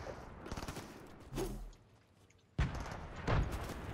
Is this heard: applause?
no